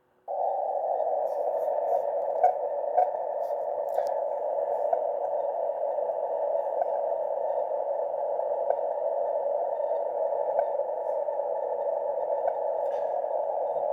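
HAARP shortwave radio transmission at 9.6 MHz received in Oklahoma through a narrow CW filter, a continuous steady tone with a faint hiss and small crackles, unbroken and even in level throughout.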